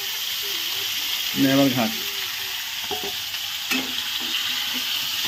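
Meat drops into hot oil in a home kitchen and fries with a steady hiss and crackle, while people talk close by over the sizzle.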